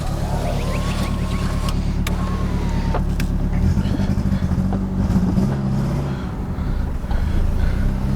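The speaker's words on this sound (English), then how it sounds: "You can hear the tires scrub." A Mercedes 190E W201 on newly bought cheap wheels drives along with a loud, steady engine and road drone, the tires scrubbing and squealing in short high bursts.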